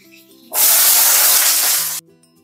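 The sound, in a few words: cut papaya and potato added to a hot pan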